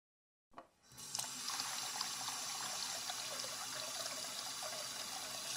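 A bathroom sink tap is turned on and runs steadily for washing a face, a continuous hissing rush of water that starts abruptly and then holds level, with no voices.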